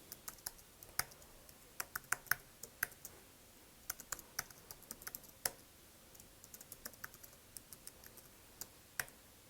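Typing an email address and password on a computer keyboard: irregular bursts of light key clicks with short pauses, recorded close and fairly quiet, with no talking.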